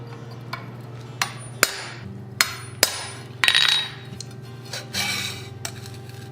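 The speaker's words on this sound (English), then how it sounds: "Coming in with a hot chisel here and a bit of an angle." A hammer drives a hot chisel at an angle into steel for an owl pendant at a blacksmith's anvil. About a dozen sharp metallic strikes land at an irregular pace, some ringing, over a low steady hum.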